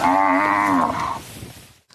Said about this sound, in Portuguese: As vacas em estudo são da raça Gir, usada principalmente por pequenos criadores na produção de leite.